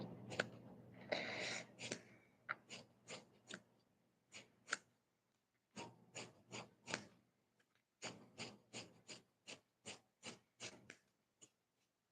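Dull scissors snip repeatedly with crisp, rasping cuts in uneven clusters, close and quiet, separated by short pauses.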